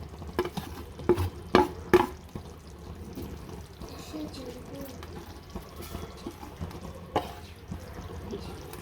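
A spoon stirs ground coriander, chilli powder and garam masala into a dhaba-style chicken masala, giving a few sharp scraping clinks early on, then a soft, steady stirring and sizzle underneath.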